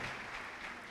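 A congregation at a church gathering claps together in a brief, dense burst of applause, steady and fairly loud throughout.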